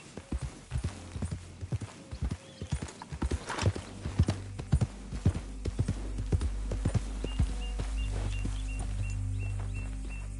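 Horse hooves pound in Red Dead Redemption 2, a rapid, close clip-clop that builds from separate strikes into a steady galloping rhythm over a rising rumble.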